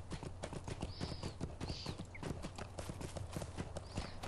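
Rapid, rhythmic horse hoofbeats in a video game clopping steadily at a trot, close and clear, with a couple of faint high whistling tones above.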